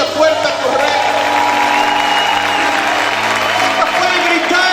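A church congregation shouting and applauding together in a loud, continuous wash of claps and voices, with a preacher's amplified voice and music carrying over the noise.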